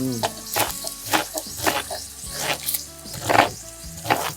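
Vegetables and duck confit browning in a stew pot for a garbure give off an irregular crackling sizzle with scattered sharp clatters of stirring, while a voice speaks intermittently over the cooking.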